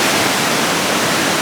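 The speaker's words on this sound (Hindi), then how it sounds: "बहाव देख रहे हो कितनी तेज़ है, आवाज़ आ रही होगी, बहुत तेज़ बहाव है।" Fast-flowing river at a Himalayan confluence with the Alaknanda, a steady, loud, unbroken roar of rushing water, close and continuous with no other sounds.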